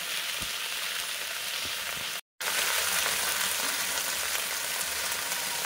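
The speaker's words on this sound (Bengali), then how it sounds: "বেগুন আলুটাকে ভালো করে ভেজে নিই।" Brinjal and potato with green chillies fry in hot oil, a steady, close, dense sizzle with one brief silent gap partway through and no talking.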